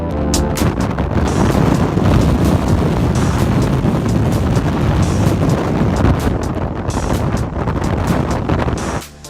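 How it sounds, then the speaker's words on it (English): A strong gust of wind roars across the microphone on a mountain hike near Laguna Torre on the Fitz Roy – Cerro Torre loop, a loud sustained buffeting rush that stays steady for several seconds before cutting off, with no talking. "So here we got another big gust of wind, and Sanya had to lay down again"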